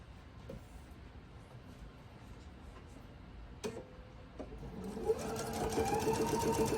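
Sewing machine stitching pieces of quilt fabric together into a seaside quilt block row, a faint background hum that builds to a steady, louder run over the last couple of seconds, with a few light clicks earlier.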